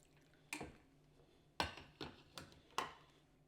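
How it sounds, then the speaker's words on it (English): Sparse drips and soft ticks from a brewing Bunn coffee maker, five distinct plops spaced irregularly in a quiet room, close by. "our coffee is brewing"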